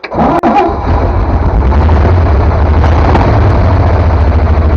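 The engine of a 1952 vehicle cranks and catches, then settles into a loud, steady, rumbling idle up close for the rest of the stretch.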